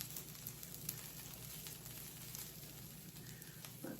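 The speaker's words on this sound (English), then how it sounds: "Let that sizzle right there real quick." Birria tacos fry in a pan and give off a steady, dense sizzle, close and continuous, with faint crackles and no talking.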